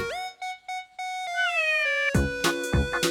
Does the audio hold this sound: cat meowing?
yes